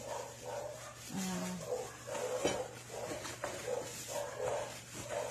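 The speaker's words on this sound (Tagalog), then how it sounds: "naririnig din po ba ang mga aso?" Dogs bark repeatedly at a distance, a ragged series of short barks and yips over a steady low hum, faint and somewhat echoing.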